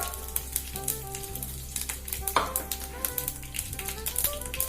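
Curry leaves hit hot coconut oil with popping mustard seeds, a dense crackling sizzle with sharp spitting pops and a steady low hum underneath, heard up close with no voices.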